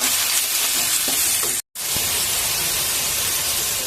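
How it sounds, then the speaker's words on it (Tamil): Onions and tomatoes sauté in a pan with a steady, close sizzle and occasional stirring scrapes, broken by a brief silent gap partway through; nobody speaks. "தக்காளி இந்த அளவு வதங்கிச்சு"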